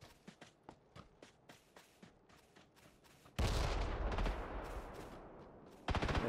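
Gunfire and a heavy blast or rocket launch ring out in a PUBG battle, starting as a rapid run of sharp, distant shots, then a sudden loud roaring burst that holds for a few seconds before another loud hit near the end.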